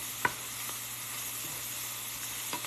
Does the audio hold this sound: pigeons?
no